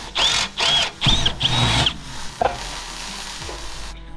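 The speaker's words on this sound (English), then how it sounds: "I gotta re-drill the holes to this so I can bolt it down" A power drill bores holes into the metal of a custom front bumper on an old Ford tow truck, four short whining bursts in quick succession, close and loud, followed by quieter clanks.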